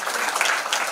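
A hall full of people claps continuously at a felicitation ceremony for meritorious students, a dense, even wash of applause lasting about a second.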